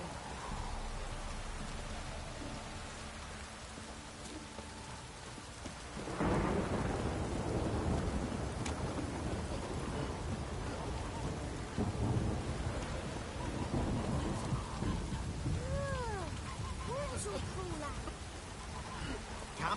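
Thunderstorm with steady heavy rain in the video game The Witcher 3: Wild Hunt, a continuous rain wash with a loud thunder rumble swelling near the middle and further rolling peals later.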